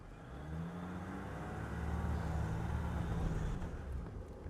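Jeep Gladiator driving off-road in 4H Auto mode, its engine giving a steady low hum that rises slightly as it climbs, heard alone and fairly quiet.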